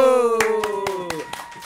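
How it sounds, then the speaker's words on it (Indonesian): A few separate hand claps for Ayu ring out at an irregular pace over a sustained voiced tone, then trail off into near quiet. "Tepuk tangan untuk Ayu."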